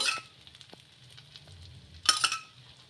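Bottle gourd rava dosa batter frying in oil on a hot pan, a soft steady sizzle with quiet stirring ticks and a brighter crackling burst near the end.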